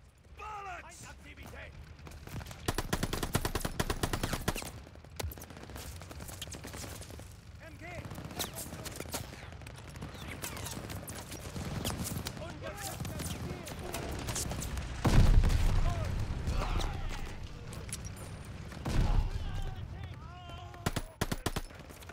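Automatic weapon fire in the Call of Duty: Vanguard campaign: repeated rapid bursts of gunfire and mechanical clatter across a long stretch, moderately loud, with frequent shouted talk over the shooting.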